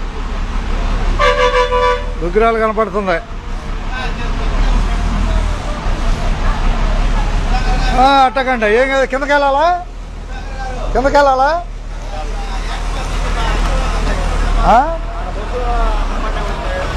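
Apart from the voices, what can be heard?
buses and road traffic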